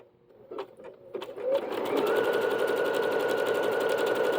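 A Bernette B-77 sewing machine stitching pattern 117 at its highest speed: a few light clicks, then a loud, close, steady mechanical whir that runs continuously to the end.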